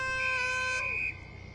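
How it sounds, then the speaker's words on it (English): A three-quarter time siren sounds at an AFLW football match between GWS Giants and Brisbane, a single steady high-pitched tone lasting about a second over faint crowd background. "There's the three-quarter time siren though."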